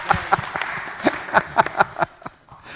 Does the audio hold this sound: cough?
no